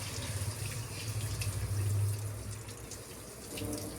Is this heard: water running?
yes